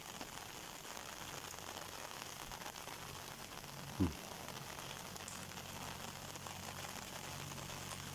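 Steady rain hissing on rice paddies, a constant wash of noise with one faint thump partway through and no voices.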